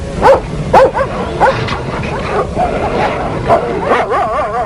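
Sharplaninec dogs fight close by, with repeated harsh yelps, snarls and whimpering cries in quick bursts throughout.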